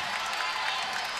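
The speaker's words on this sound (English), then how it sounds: "Now this incredible crowd on their feet." A packed arena crowd at a women's college volleyball match between Indiana and Penn State roars and applauds on its feet at set and match point, a dense, steady wash of cheering and clapping.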